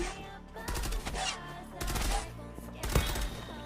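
Automatic gunfire from the RS rifle in the online shooter Zula, firing in several short rapid bursts with gaps between them, loud and close over a low game background.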